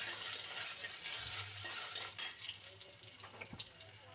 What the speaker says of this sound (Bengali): কড়াইতে সর্ষে ফোড়ন দেব, কাঁচা লঙ্কা, শুকনো লঙ্কা